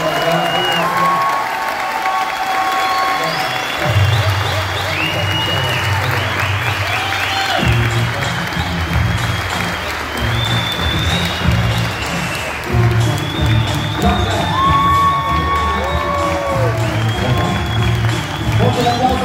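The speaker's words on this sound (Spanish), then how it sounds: "Fuerte el aplauso, señoras y señores." Audience applause and cheering at a Comic Con panel in Argentina: a crowd claps steadily throughout while a presenter speaks over it through a loudspeaker.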